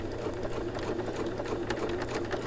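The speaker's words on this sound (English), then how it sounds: "use the guide, and still get that straight parallel stitch" A Bernina sewing machine stitching with the edge stitch foot gives a fast, even, rhythmic mechanical chatter with a low motor hum, close and continuous without a break.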